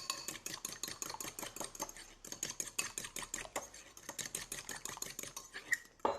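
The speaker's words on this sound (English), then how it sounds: "So I'll just whisk that up. Give it a good whisk." Eggs, one a double yolker, whisked briskly in a bowl for a bara brith batter, a fast steady run of close clinking and scraping strokes with a brief pause partway through.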